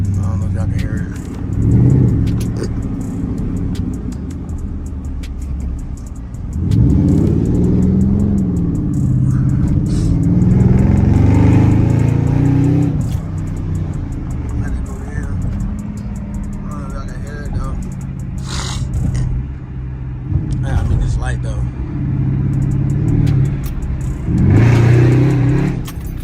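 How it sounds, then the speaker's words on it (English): A Dodge Charger SRT's engine revs in repeated surges inside the cabin, rising and falling with a few sharp exhaust crackles, while someone talks over and between the revs. "I heard that little crackle in the back."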